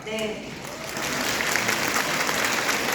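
An audience in front of a stage breaks into applause at a Korean business seminar, a dense, steady wash of clapping that holds evenly for the whole stretch with nobody speaking.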